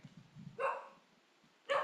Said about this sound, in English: I think my dogs bark, but I hope you can still hear.